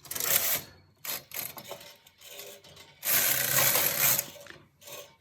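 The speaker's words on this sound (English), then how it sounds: "we're going to move 1 row across" A knitting machine carriage set to KC slides one row across a punch-card patterned knit, giving a rattling mechanical clatter with short bursts and then a longer sustained sweep.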